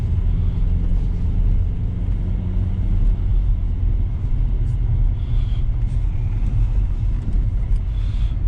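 An Audi A4 engine idles with a steady low rumble close by, a constant drone without revving and no clear speech.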